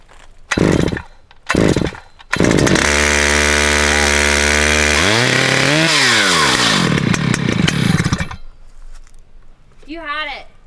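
Stihl MS 881 chainsaw being started: two short pull bursts, then a loud close roar that revs up and down for several seconds before dying away, followed by brief voices.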